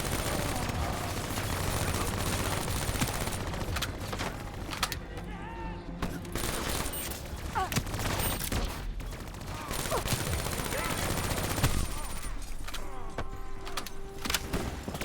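Dense bursts of gunfire from Call of Duty: Black Ops 3 rattle on and off through a busy game mix, loud and close, with a voice speaking over parts of the fighting.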